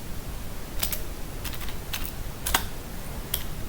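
Python code being typed on a computer keyboard: a handful of crisp, close keystrokes and short bursts spaced irregularly over steady background hiss, no voice.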